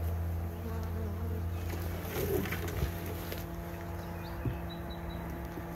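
A swarm of honeybees flying around a swarm trap box, a steady close buzzing hum that persists throughout with a low background drone and occasional brief knocks.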